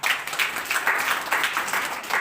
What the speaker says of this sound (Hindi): सिस्टर के लिए ताली बजा दीजिए।